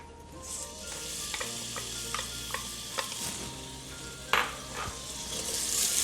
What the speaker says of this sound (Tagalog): pag mainit na yung ating sauce pot, pwede na natin ngayong ilagay yung ating onions. Yan, ang usual gisa.